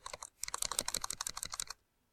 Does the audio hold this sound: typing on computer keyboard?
yes